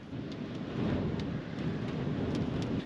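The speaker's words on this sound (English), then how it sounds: "You could say it's a little windy up here." Strong wind on high ground along Scotland's NC500 route roars against the microphone in a continuous low rumble with gusty buffeting throughout, and no voices.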